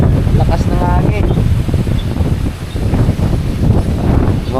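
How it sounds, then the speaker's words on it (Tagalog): Strong wind buffets the microphone with a steady low roar as a typhoon approaches, while voices talk over it throughout. "Lakas ng hangin."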